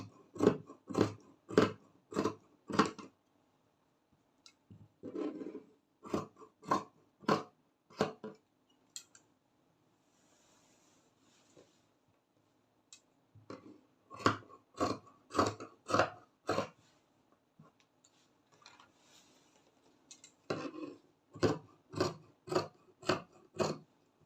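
Scissors snip through sequin velvet fabric being cut for a bubu cowl kaftan, close-up bursts of crisp rapid cuts in quick runs of four or five, separated by short quiet pauses.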